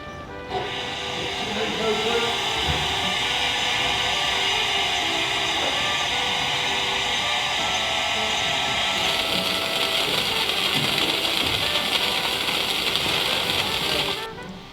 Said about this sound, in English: There's now enough steam pressure to start the warm through of the small engines.